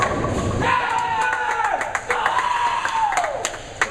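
Bowling pins crashing from a strike at a team bowling final, a thud and clatter followed by crowd noise and scattered claps, with a commentator talking over it.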